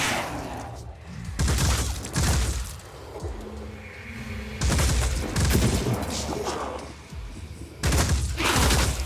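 Automated defense turrets firing in a video game, with repeated loud bursts of gunfire and booms in clusters across the clip, broken by brief quieter gaps and a low electronic hum, with no talk.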